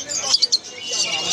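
Caged birds chirping at a bird market in Serampore, short bright tweets over a steady busy high-pitched chatter of many birds.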